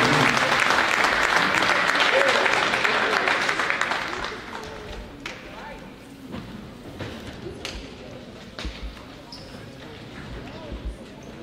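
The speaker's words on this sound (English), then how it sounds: "one more round of applause to the Nelson family for their contributions" A crowd applauds in a gym at a women's basketball game between Academy Park and Chester, loud and dense for about four seconds, then tapering into scattered claps, thuds and ball bounces.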